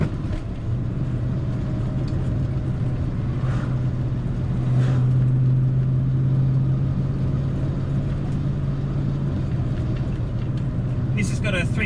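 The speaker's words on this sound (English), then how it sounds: "This has got a 351 Windsor V8. It's standard GT spec. It's got a Holy carb on it." A Ford Falcon XW GT with a stock 351 Windsor V8 and Holley carburetor drives along, its low, steady engine drone heard from inside the cabin, rising briefly in the middle, with no talk over it.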